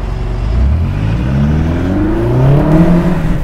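A BMW X5 M engine revs hard during a test drive, its low droning note climbing steadily in pitch over a few seconds. The sound is loud and continuous, with no talking.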